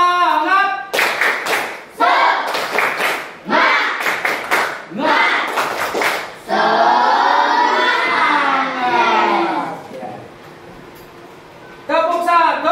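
A group of adults breaks into a rhythmic clapping chant, with bursts of loud unison claps in a steady pattern, a sustained shouted group cheer in the middle, and more clapping toward the end.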